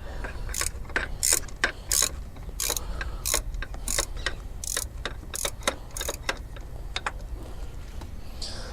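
A hand ratchet turning a 10mm bolt on a Volvo M56 manual gearbox, giving a steady run of crisp metallic clicking strokes close up, evenly paced with no talking.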